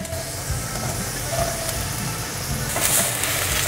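Fresh shiitake mushrooms go into hot oil with ginger slices in a wok and fry with a steady close sizzle and hiss, broken by a few light stirring scrapes.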